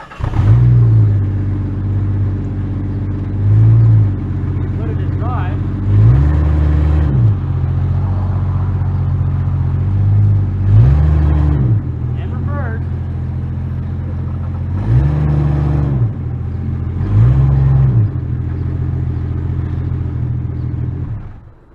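A Jeep engine after a hesitation fix, idling with a low rumble and revving up cleanly several times in a regular pattern, each rev rising and falling smoothly, loud and close.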